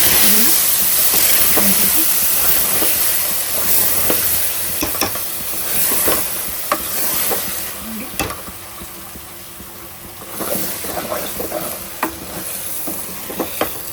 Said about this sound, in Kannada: ಅದನ್ನು ಖಾರನೂ ಹಾಕ್ಬಿಟ್ಟು ಸ್ವಲ್ಪ ಮೊಗ್ಗಿಸ್ಕೊಳ್ಳೋಣ ಅಂತ